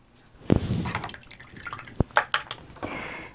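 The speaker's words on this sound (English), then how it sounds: "I'm rinsing my brush every time just in case I pick up a little bit of brown." Watercolor paintbrush rinsed in a water container, giving a few close splashes and swishes followed by small drips and taps against the container, quiet and without speech.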